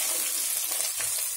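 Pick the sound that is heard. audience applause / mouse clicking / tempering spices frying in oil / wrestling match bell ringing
tempering spices frying in oil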